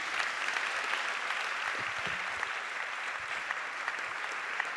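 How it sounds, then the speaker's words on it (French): Audience applause after a talk by the head of a large Paris start-up campus: steady, dense clapping from a sizeable crowd, even and sustained throughout with no voices over it. "On peut l'applaudir, s'il vous plaît."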